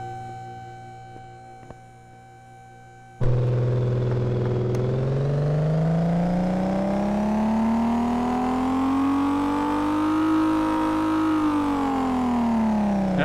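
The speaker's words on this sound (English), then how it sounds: "Let's pop them in the dyno and see what it's pulling now." A car engine in the Car Mechanic 2015 video game, an M8 under restoration, revs steadily on a dyno. It follows a few seconds of quieter background, then holds a loud, rising and falling drone that climbs in pitch before easing off near the end.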